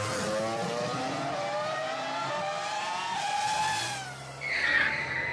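A diecast toy F1 race car spinning out on a track, with a whining engine tone that rises and sweeps, then a brief squealing skid near the end.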